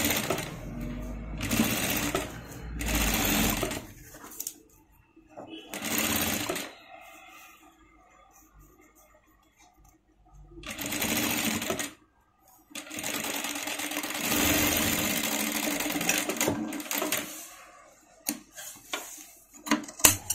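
A sewing machine stitches the folded hem of a maggam blouse back piece, running in several loud bursts of steady rapid whirring with short pauses between them, no talking over it.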